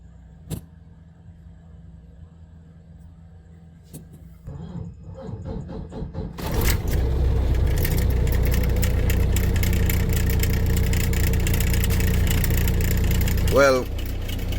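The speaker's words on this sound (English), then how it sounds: "Well, it starts, the engine actually start with that one try." A Volvo VNL truck with a hard-start problem cranks and then fires up, its diesel engine settling into a loud, steady idle after quieter clicks and a brief whirr at the start.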